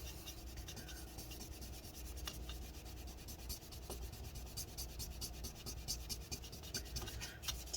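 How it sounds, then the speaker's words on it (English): Rubbing alcohol being used to scrub adhesive residue off a Late 2016 15-inch MacBook Pro A1707, heard as continuous close, fast scratchy rubbing strokes at a soft level. "get some more rubbing alcohol in here. And continue cleaning."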